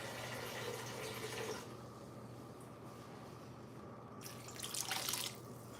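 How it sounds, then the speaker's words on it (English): Tap water pours steadily into a pot of boiling spaghetti on a kitchen stove, a continuous moderate rush with a louder gush near the end. "I'm gonna add a little more water because it is soaking up a lot of water."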